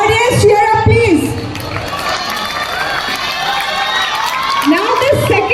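A school audience at a quiz competition at CS DAV Public School, Motihari, cheers and whoops loudly, with children's shouts rising in bursts at the start and end and a voice speaking over the crowd.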